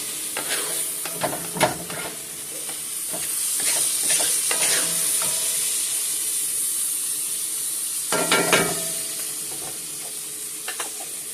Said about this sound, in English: So we'll just let that cook down in there with the vegetables as I'm sauteing.